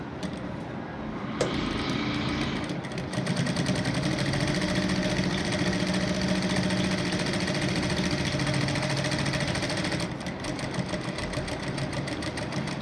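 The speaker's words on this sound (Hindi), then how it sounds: "मशीन पर हम आ चुके हैं, तो अब इस जगह से स्टिचिंग का आगाज़ किया जाएगा।" A sewing machine stitching a collar runs in a steady, close, rapid mechanical whir with a brief pause at the start and a slight change in tone near the end, with no talk over it.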